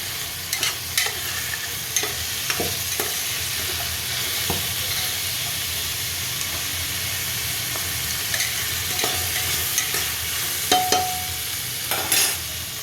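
Mixed vegetables fry in a pan with cumin, ginger and garlic for veg pulao, giving a steady soft sizzle under repeated scrapes and clinks of stirring; no talking.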